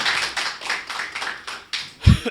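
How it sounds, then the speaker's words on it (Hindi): An audience at a Hindi kavi sammelan poetry recital claps in a few short rhythmic bursts, ending in one louder, sharper clap near the close. Fairly close and moderately loud, with no talk over it. "पुनः बजा दीजिए।"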